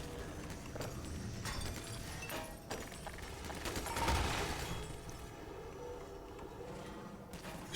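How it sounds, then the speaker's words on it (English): Enemy gunfire in Half-Life 2, scattered shots and bursts over a busy, dense game mix with a louder swell near the middle, a player voice briefly audible. "Shooting at me."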